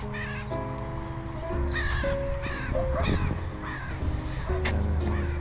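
Crows caw repeatedly in a field, harsh calls overlapping from several birds, over a steady low rumble and faint tonal hum.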